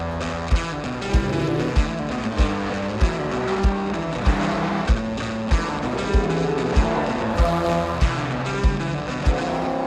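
A car drives through rush hour traffic with a steady engine and road drone inside the cabin, and regular thumps from the road surface every half second or so.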